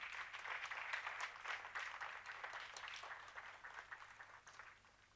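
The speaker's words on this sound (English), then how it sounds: "Please give a round of applause to everyone here" A crowd applauding steadily for several seconds at an Arangetram dance debut, a dense patter of many hands that fades slightly toward the end.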